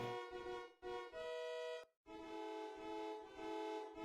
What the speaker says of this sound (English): that someone was honking